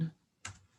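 A couple of soft keystrokes tap on a computer keyboard, close and quiet, with a short pause between them.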